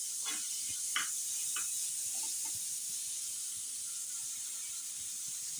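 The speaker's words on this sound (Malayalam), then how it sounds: "സവാള ഇട്ടെടുക്കുക, ഒന്ന് വഴറ്റിയെടുക്കാം" Chopped onion sautéing in hot oil in a pan: a steady, close hiss and sizzle runs throughout, with a few brief stirring clicks early on and no voices.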